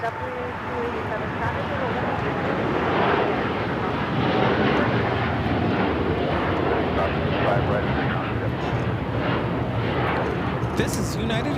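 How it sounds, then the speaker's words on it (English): A United Airlines Boeing 787-9 Dreamliner takes off at LAX with a loud, rumbling engine roar that builds early and stays sustained and close, while people talk beneath it. "This is United Airlines 198 taking off to Shanghai on the 787-9 Dreamliner."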